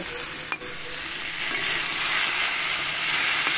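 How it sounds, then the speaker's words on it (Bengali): Spice paste for a Bengali bata fish curry stir-fried in a pan, a steady loud sizzle with scraping stirs over it, continuous throughout with no talking. "এবার মশলা দিয়ে আবারও খুব ভালো করে কষিয়ে নেব"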